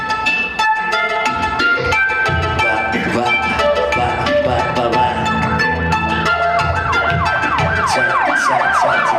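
Wailing emergency siren woven into a hip-hop track, its sweeping rising and falling tones running continuously over dense, loud music with a steady beat.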